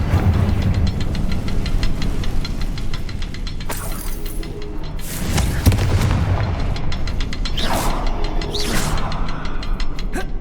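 The Confringo blasting spell goes off in Hogwarts Legacy with a booming explosion burst that rises over a steady, loud wash of game music and ambience.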